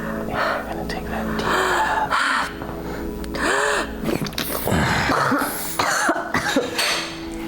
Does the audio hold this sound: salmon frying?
no